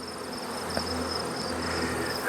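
Honey bees buzz around the front of a hive, a continuous close, steady drone with individual insects whining past, with no talking.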